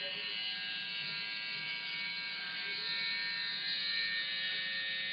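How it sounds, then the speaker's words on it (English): Electric shaver trimming off sideburns, a steady close buzzing hum that runs unbroken for the whole stretch at an even level. "So I'm cutting off these sideburns."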